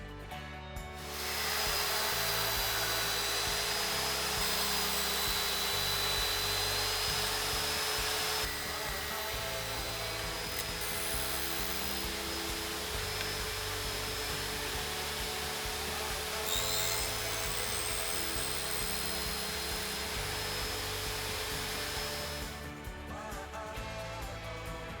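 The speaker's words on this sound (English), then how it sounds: "we're going to cut some dados into the uprights to accept the shelf pieces" A router or similar power tool cuts dados into blackwood uprights, giving a loud, close, continuous high whine with a heavy grinding undertone that runs steadily for about twenty seconds, shifting slightly in pitch as the cut goes on.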